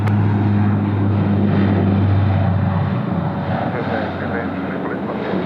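A Velocity flight lands on runway 34 left at Sydney Airport, a loud, steady jet engine roar that drifts slightly in pitch and fades a little toward the end, with talk mixed in.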